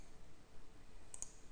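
A computer mouse gives a faint, quick double click against a low background hiss, heard late and alone, during an After Effects tutorial.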